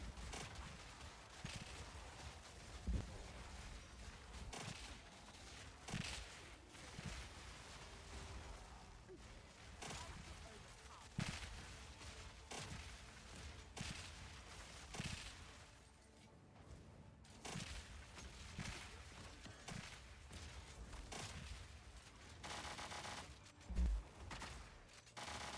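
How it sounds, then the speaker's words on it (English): Rampart Raptor crossbow loosing frag rounds in a video game: a dense, continuous barrage of loud explosive bursts and crackling impacts at a rapid, uneven rhythm, up close with no talking. "This is how fast Rampart Raptor fires frag rounds."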